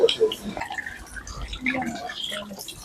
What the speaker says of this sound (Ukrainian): Ось тут ще є одне джерело, так що в нас є всі шанси поміняти воду в нашій флязі.